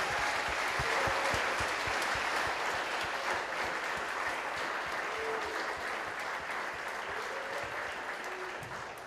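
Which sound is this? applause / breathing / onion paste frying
applause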